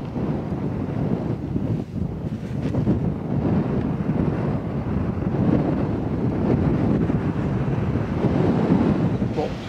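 Gusting wind sweeps across an open golf course, buffeting the microphone with a loud, continuous low roar that swells and eases in waves.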